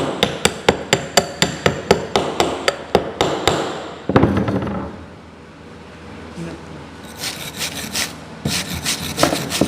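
A hammer chips slag off a fresh weld in rapid, evenly spaced metallic taps, loud and close, followed by a quieter scraping stretch and then a burst of wire brushing.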